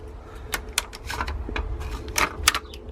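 A tape machine for plant tying grabs and pulls back the tape, giving a series of sharp mechanical clacks and snaps at irregular intervals over a low background rumble.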